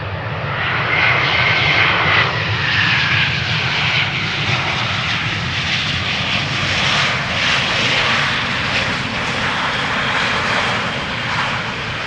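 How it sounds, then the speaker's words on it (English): An all-white Air Malta airliner lands at Schiphol Airport, a loud, sustained engine roar that holds steady across the whole stretch with no talking. "Our next airplane to land, Air Malta, arriving from Malta."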